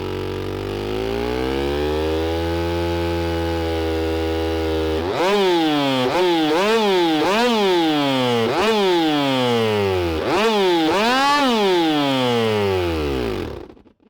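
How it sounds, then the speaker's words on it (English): A simulated chainsaw engine from an engine simulator runs with a steady buzzing idle, then revs up and down repeatedly in rising, whining surges before cutting off. "we can see that the saw starts and has a very stable idle."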